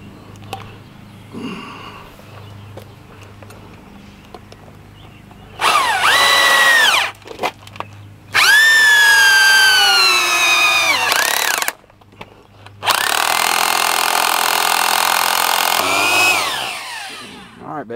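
A power drill bores a hole into a wall during furnace and air conditioner repair work, with three loud, close bursts of whining drilling broken by pauses and quiet background sounds.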